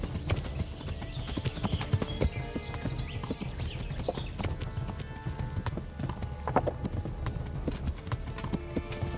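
Horse hooves clip-clop in the medieval game Kingdom Come Deliverance, a fast, steady rhythmic beat of hoofsteps that is close and fairly loud and continues without a break.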